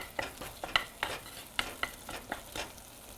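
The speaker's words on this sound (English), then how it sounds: "So when you hear it sizzling," Cumin sizzles and crackles steadily in hot oil in a pan, with scattered sharp pops and the scrape of stirring, close and moderately loud, no voices.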